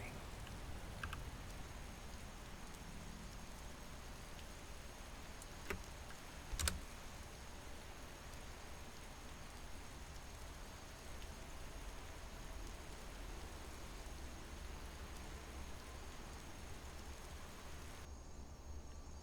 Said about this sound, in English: And it has not stopped raining.